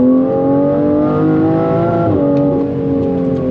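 A 2026 Aston Martin Vanquish accelerating hard from standstill under launch control, loud engine note climbing steadily with a quick gear shift midway, heard from inside the car.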